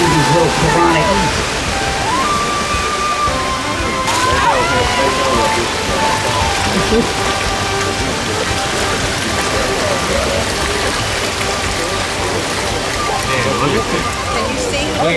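A waterfall pours steadily into a rainbow trout pond, a dense continuous rushing and splashing, close and loud throughout, with people talking over it.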